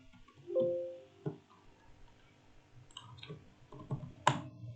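Scattered keystrokes tap on a computer keyboard in short irregular clicks and small bursts, close and fairly quiet, with pauses between presses and no speech.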